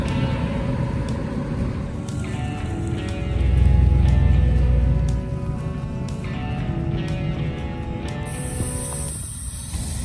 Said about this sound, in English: that's just an example of the cars airing out